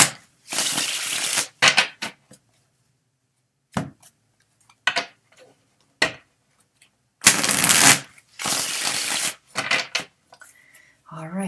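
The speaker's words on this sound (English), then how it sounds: "I'm shuffling till one card falls out." Tarot cards are shuffled by hand in bursts of brisk riffling and slapping, stopping and starting with short pauses and quiet gaps between, close and fairly clear.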